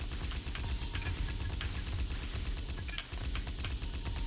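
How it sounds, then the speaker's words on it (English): A mech's cannon fires in the Armored Core 3 video game, a dense rapid barrage of blasts and booms that runs continuously and loudly, with no talk. "you can just pop out a cannon and just start doing this"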